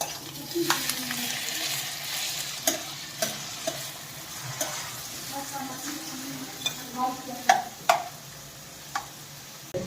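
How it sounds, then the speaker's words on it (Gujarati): Chopped tomatoes hit browning onions in a pan and sizzle steadily while a spoon stirs and scrapes. Soft clinks recur over a constant frying hiss, close up. "કાંદા લાલ થવા આવ્યા છે તો આપણે હવે એમાં ટમાટર નાખી દઈશું."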